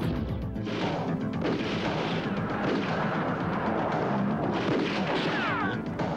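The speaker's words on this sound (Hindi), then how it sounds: "एक टैंक?" Tank cannon fire in a Hindi-dubbed Hollywood action movie booms and crashes loudly and continuously, with dense explosive blasts and rumbling debris filling the whole stretch.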